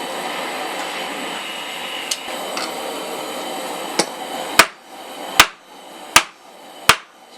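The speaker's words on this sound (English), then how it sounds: "So we're going to just keep on hitting it" Hammer blows on hot steel as a center punch taper is forged, with four sharp, loud, ringing strikes spaced evenly toward the end after fainter taps over a steady hiss.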